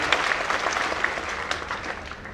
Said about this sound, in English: Let's give another hard clap for that